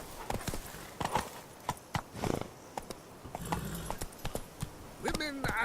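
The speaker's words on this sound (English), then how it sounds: "Run, Roach" A horse gallops in The Witcher 3 on PS4, its hooves clopping in a quick, steady rhythm under a voice talking over the action.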